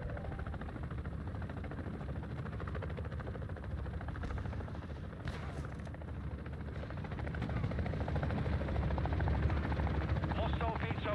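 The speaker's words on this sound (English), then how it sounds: "A cargo helo has entered the airspace." A cargo helicopter flies overhead in a Modern Warfare 2 ground war match, a steady rotor drone and engine rumble that swells louder toward the end, mixed with battle noise and voices talking over it.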